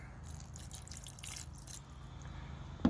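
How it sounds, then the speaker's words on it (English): Water being poured into a rock tumbler barrel over rocks and grit, a soft continuous trickle with faint splashes under a low hum, ending in a single louder knock. "the next step is going to be to add the water"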